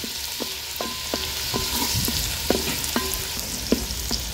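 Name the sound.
crushed garlic sautéing in hot oil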